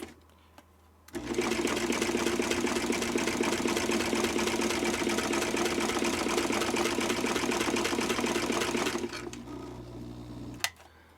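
A Kenmore sewing machine fitted with 3D-printed replacement parts runs at steady speed, a close, even mechanical whir and clatter lasting about eight seconds between quiet stretches.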